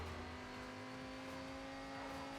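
A car engine in Midnight Club: Los Angeles holds a high, steady rev with a strong harmonic whine, loud and continuous with no talk over it.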